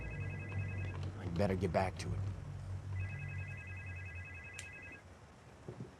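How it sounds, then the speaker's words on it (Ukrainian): In the horror game Supernormal, a telephone rings in repeated electronic tone bursts, two separated rings of moderate loudness, while a voice speaks briefly between them. "Хтось телефонує."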